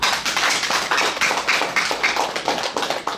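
A temple audience applauds during a Buddhist Dharma talk, with loud, brisk clapping from many hands in a rapid uneven patter that holds steady for about three seconds.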